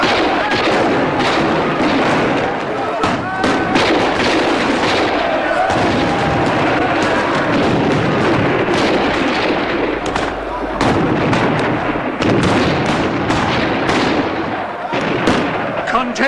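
Soldiers firing guns in a 1986 film: dense, continuous volleys of crackling gunshots and booms fill the scene, loud and chaotic throughout, with voices shouting underneath.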